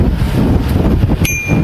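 A single bright bicycle bell ding rings out near the end over blustery wind noise and low rumbling movement, in Vienna.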